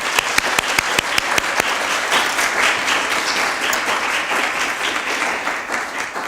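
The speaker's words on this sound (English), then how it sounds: "Let's get a round of applause here." A room full of people claps steadily, with a few sharp close claps at the start, continuing loud throughout.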